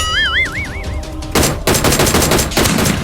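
Automatic gunfire in the mobile battle royale game PUBG Mobile, a rapid loud burst of shots following a warbling tone, close and dense, with no talking over it.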